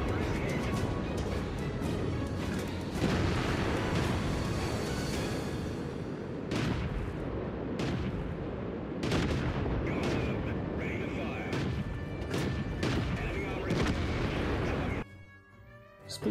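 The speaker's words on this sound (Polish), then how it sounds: "Przeciwnik otrzymuje kilka strzałów, jednak dalej żyje." Tank cannon fire in a tank combat video game comes as several booming shots and explosions over continuous battle rumble, heard under a voice talking through most of the stretch.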